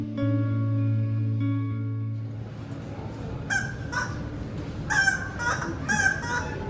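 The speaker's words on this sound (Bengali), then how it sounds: "একটা মুরগি ডাকছিল, ওটা ভালো।" A chicken calls in a few short, harsh bursts in the second half, over outdoor background noise after a steady low hum fades out.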